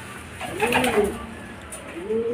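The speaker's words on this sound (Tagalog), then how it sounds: "Ayun mga kalapatids, 3 na. Ito mga pauwi natin." Racing pigeons arrive at a loft during club training, with a few soft, close coos and wing-rustling bird sounds over quiet background noise.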